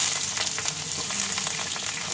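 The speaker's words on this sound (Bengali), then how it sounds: "দেখো কড়াই তেল দিচ্ছি। সরষে তেল, এগুলো তো ভালো লাগবে। আলুগুলোকে ভেজে নেব।" Potatoes fry in mustard oil in a wok, giving a steady, close crackling sizzle with small pops and occasional stirring scrapes, with no talk over it.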